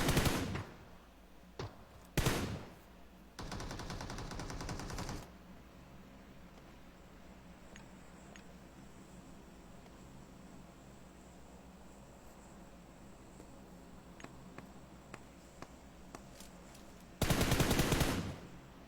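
Bursts of automatic gunfire in the PUBG Mobile battle royale game, loud rapid volleys at the start and end with a few single shots and distant pops between them over quiet ambience, no speech.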